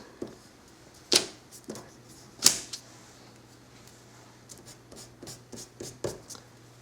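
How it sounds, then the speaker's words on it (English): Colored pencil lightly sketching on paper while drawing a bird: soft, scattered scratchy strokes, a couple of sharper scrapes early on and then a quick run of faint taps and rubs, quiet and close. "what I'm actually doing is just simply making the sketch lighter, much lighter, so that I won't have so much pencil to contend with on the paper"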